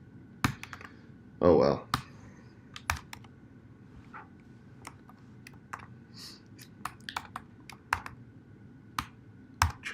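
A computer keyboard clicks in scattered, irregular keystrokes while calculations are typed, crisp and close, with a short burst of speech early on and a few pauses between taps.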